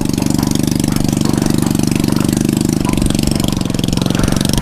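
A Honda motorbike engine runs close to the microphone with a loud, steady, rapid chugging throb that continues without a break.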